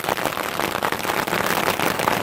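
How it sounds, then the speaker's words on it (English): Hail falling steadily at Yellowstone, a dense, continuous hiss of hard pellets striking the ground and surfaces all around, with no voices over it. "at least you don't get wet when it's hail"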